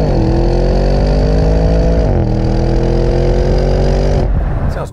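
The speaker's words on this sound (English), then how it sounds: "This is quite a smooth sounding V8 engine." A Porsche Cayenne Turbo's 4-litre twin-turbo V8 hums loud and close in a smooth, steady rev that dips slightly midway, then holds before easing off at the end.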